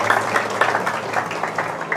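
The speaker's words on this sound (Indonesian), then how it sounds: "Boleh beri tepuk tangan untuk mereka semua." Crowd at a ceremony for the Kunir stacked-housing village project in Jakarta's old town claps in a loose, uneven patter, moderately loud, with some murmuring under it.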